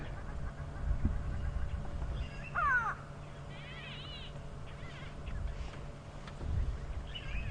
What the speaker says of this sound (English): Calling for the fun of it, or at another go-away bird.